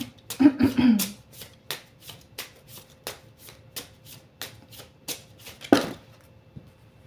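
A deck of oracle cards is shuffled and then cut by hand. Riffling flutters give way to a steady run of close, crisp slaps, with one louder snap near the end.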